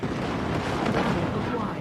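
An incoming missile explodes in the Mechwarrior 5 Mercenaries video game, a loud, dense rumbling blast that fills the short moment with no clear gap.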